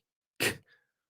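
A single short sneeze, close and sharp, followed by a brief soft exhale, then silence.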